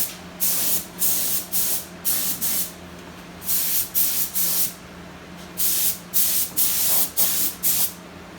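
A spray can lays black paint on the chassis of a 1965 Falcon race car in about a dozen short hissing bursts, loud and close, with brief pauses between them.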